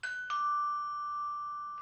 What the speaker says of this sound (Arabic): ما تسمع الجرس؟